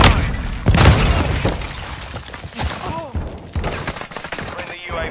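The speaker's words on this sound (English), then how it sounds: "Friendly cluster mine." Cluster mine explosions in the video game Call of Duty: Modern Warfare 2, a burst of booms and cracking blasts with shattering debris, loud and close, mixed with other battle noise and brief voices.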